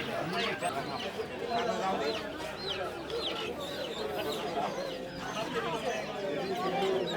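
Chickens cluck and squawk in a busy duck and chicken market at Atibazar, Keraniganj, repeated overlapping calls at close to middle distance, with people talking throughout.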